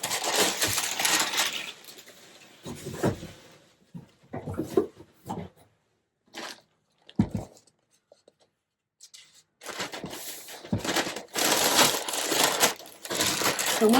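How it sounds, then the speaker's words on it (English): Packing paper is scrunched and folded around items being boxed for shipping, in loud crinkly bursts split by quiet gaps. Close and alone, with no talk. "I'm going to wrap each one of these up in a piece of packing paper as well"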